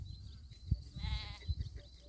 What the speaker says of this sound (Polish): dorosła owca idzie, to pociągnie resztę